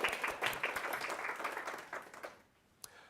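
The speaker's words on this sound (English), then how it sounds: "can we just give a massive round of applause to all my fellow candidates" A university entrepreneurship society talk audience giving a round of applause, dense rapid clapping from a crowd that is loud at first and tapers off to a few scattered claps.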